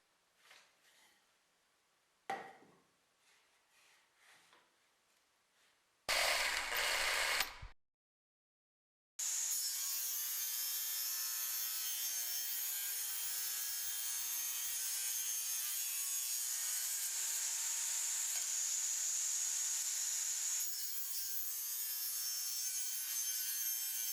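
Wooden table legs cut to a taper on a saw using a wedge-shaped plywood tapering jig: a few short scraping passes, then a loud steady cutting whine lasting about fifteen seconds, close by with no voices.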